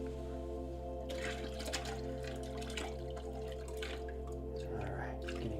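Water poured into a pottery studio's thickened throwing-water bucket, with intermittent splashing and trickling over a constant mechanical hum, close and moderately quiet.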